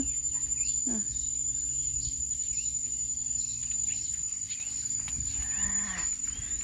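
Cicadas drone steadily and loudly around a house set among trees, a continuous high shrill buzz holding through the whole stretch with faint rural background noises underneath.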